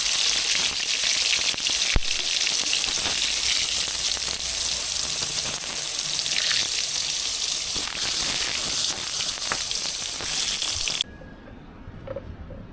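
Eggplant slices fry in hot oil for a home-cooked brinjal fry, giving a loud, steady broadband sizzle close by with occasional pops. The sizzling cuts off abruptly near the end and leaves quiet room tone.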